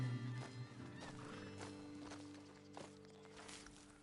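Horses in a Wild West video game stand and shift, with hooves clopping on the ground, a whinny near the start and soft snorts, all fairly quiet and close.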